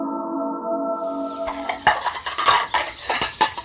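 Dishes, plates and cutlery clatter and clink as they are washed, a string of sharp knocks and chimes up close, taking over from a steady low tonal drone that fades out.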